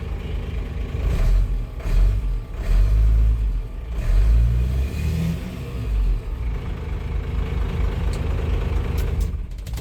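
A Ford F700 or GMC Top Kick medium duty truck, a former box truck, cranks and starts, then its engine rumbles and revs in several heavy low surges up close before settling into a steady idle.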